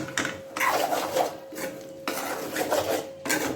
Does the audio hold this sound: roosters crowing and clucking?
no